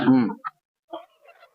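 Village-bred native country chicken, traditional nati hen, giving a few short clucks up close, with a fuller call first and then fainter, broken clucking sounds over about a second and a half.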